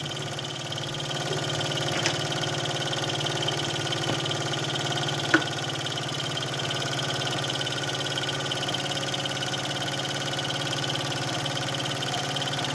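A 1970s Mamod stationary boiler steam engine toy runs at a steady, even hum with a faint mechanical whir and an occasional small tick, close by and unchanging.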